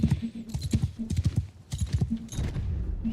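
Rapid, overlapping hoofbeats from cavalry horses charging in a Bannerlord video game battle, a dense galloping clatter in bursts with brief lulls, close and loud.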